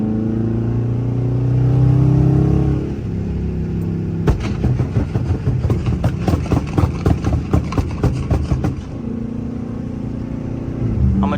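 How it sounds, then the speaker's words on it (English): A Dodge Charger R/T engine rumbles loud and close while cruising on a highway. Through the middle comes a fast burst of sharp, rapid popping crackles as the exhaust shoots flames, then a steady drone returns. "I'm gonna try not to do too much talking so y'all can hear my car and stuff"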